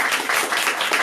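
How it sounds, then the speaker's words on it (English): Brief burst of audience applause at a meditation gathering, dense and steady clapping throughout. "Give yourself a round of applause."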